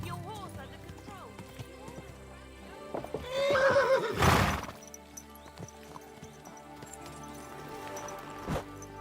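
A horse in the video game Kingdom Come: Deliverance II neighs loudly in the middle, with hoof clatter and short bursts of talk around it.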